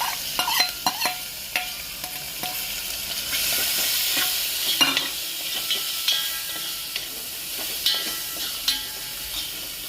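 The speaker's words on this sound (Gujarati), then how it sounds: "હવે કાંદા અને કટકી કરેલી લસણ નાખી દેવી વઘારમાં।" Onion and chopped garlic hit hot tempering oil in a pan for dal fry, giving a steady crackling sizzle with sharp spatters and occasional stirring clinks, close and alone without speech.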